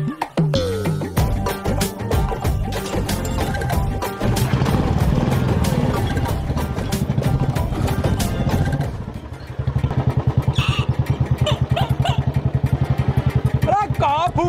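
A parked motorcycle's engine runs loud and close with a steady rumble, then settles into a rhythmic idle putter, with people talking over it.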